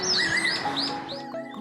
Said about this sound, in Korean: 숲속에서 들리는 맑고 고운 새소리, 천연기념물 팔색조가 내는 울음소리입니다